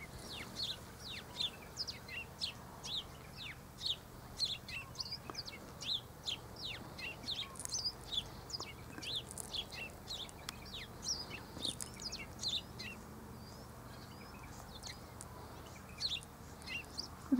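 Silvereyes feeding on plum blossom nectar give a steady stream of thin, high chirps and twitters throughout, moderately close and without talk.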